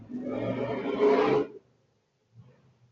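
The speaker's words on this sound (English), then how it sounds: "It sounds like a roar" A loud, rough roar from an unidentified animal in a backyard, a single sustained growling call lasting over a second, followed by silence and a faint low rumble.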